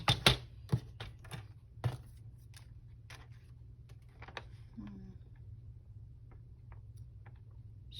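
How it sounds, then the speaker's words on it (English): Paper being cut for a junk journal, heard as sharp, irregular snips and taps close by, with a cluster of clicks at the start, then sparser crisp cuts over a low steady hum. "I'm just going to cut it."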